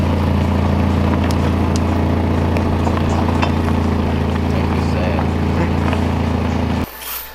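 A Nissan project car rolling along, its engine giving a loud, steady drone that stays even throughout with some rattles and knocks, then cuts off abruptly near the end.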